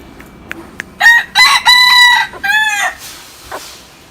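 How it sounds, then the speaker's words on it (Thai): A young native Thai game-breed rooster crows once, loud and close, a long ringing cock-a-doodle-doo, with a few short clucks before it and a brief call just after. "เจ้าอินทรีนี่ขันดีครับ"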